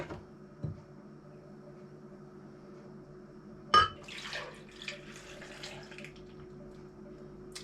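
Milk is poured into a measuring cup for a raspberry milkshake: a few sharp glassy clinks, then a soft, faint trickling pour with small knocks, close by and without speech.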